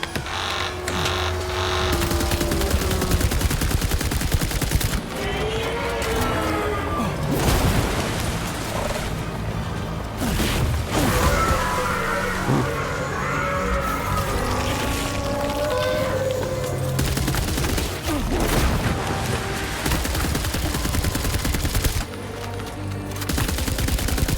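Rapid gunfire and bursts of shooting in the video game Death Stranding 2, mixed with booms and busy music-like game sound, loud and continuous across the scene.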